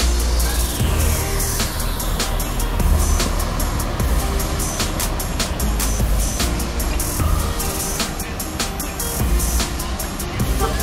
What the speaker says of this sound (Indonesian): Berlian Jaya AK Peluru Malam, menggunakan bodi jet bus 3 dari Karoseri Adi Putro, jurusan Jakarta Purwodadi.